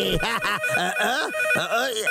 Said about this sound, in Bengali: এখন কে ফোন করে? ফোনের সাউন্ডটা কমাইতে হইবে।